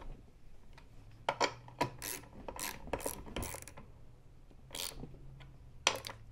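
A hand ratchet snugs down bolts with lock washers while a Hammerbuilt tire support is installed on a Bronco, sounding as short, close clicking bursts separated by brief pauses, quiet overall.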